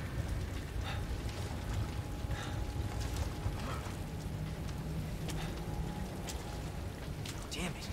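Steady heavy rain in Resident Evil 2 Remake, a constant hiss of downpour under scattered louder drops and thuds, with someone talking over it.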